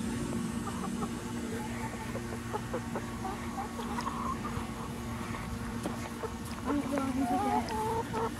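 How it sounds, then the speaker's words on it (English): Several backyard chickens, egg-laying hens, cluck in scattered bursts over a steady outdoor hum, with busier clucking toward the end and faint voices nearby. "You're gonna be picking up every chicken again."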